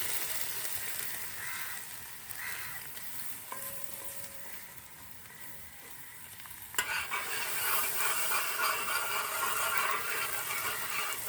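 Chopped ginger sautés in coconut oil in a pan, giving a steady sizzle with stirring scrapes that jumps louder and brighter partway through and keeps crackling to the end, with no voices.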